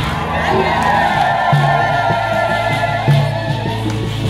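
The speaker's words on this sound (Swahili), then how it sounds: "Ongeza vigelegele tafadhali." A church crowd ululates at a Catholic parish celebration at Fatima parish in Matai, a dense continuous wash of high trilling voices with cheering and some talk mixed in, steady and loud throughout.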